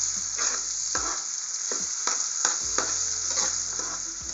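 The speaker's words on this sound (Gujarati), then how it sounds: "અને રસને આપણે એકવાર ચમચાથી હલાવી લઈશું।" A spoon stirs lemon juice into a green chili pickle, giving a steady wet scraping and sizzle-like hiss with repeated stirring strokes, close up and with no talking.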